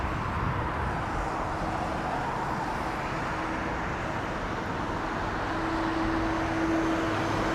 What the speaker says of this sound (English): there's your Finnair 350